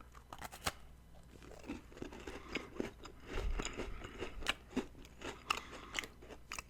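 An Oreo cookie is bitten and eaten up close in a quiet ASMR setting, with continuous crisp crunching and wet chewing that comes in uneven bursts and is not covered by any talk.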